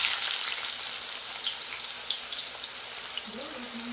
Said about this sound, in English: got my oil hot here, and I'm gonna add onions